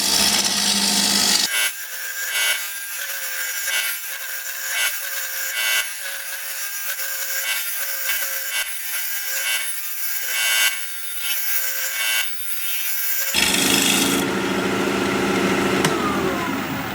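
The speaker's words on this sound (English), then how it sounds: "I'm going to sharpen up my 5/8 inch bowl gouge and switch to that" A 5/8 inch bowl gouge cuts a large black walnut bowl blank spinning on a wood lathe. The cutting makes a loud, continuous rough scraping hiss that swells and eases slightly, with no voices.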